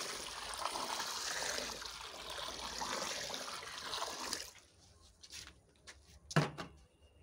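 Cold water poured into barley-based cattle feed, a steady splashing pour for about four seconds, then stops, leaving a few soft knocks and clatters nearby.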